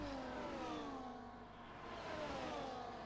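Race cars in a racing video game league run at speed, engines whining steadily with pitch sweeping gently down and back up as they hold position close behind one another, a continuous mid-level drone with no talk.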